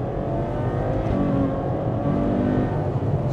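Engine of a 789 bhp Ferrari 812 Superfast heard from inside the car, a loud continuous V12 roar with shifting revs and steady growl, no talking.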